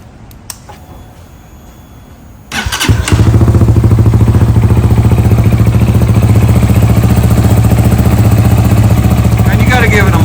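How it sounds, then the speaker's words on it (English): A Hawk 250 motorcycle, just fitted with an oil cooler, cranks over after a quiet stretch, then fires and settles into a loud, steady close-up idle with a rapid even beat that continues to the end. "let's give it a quick crank up and check for leaks"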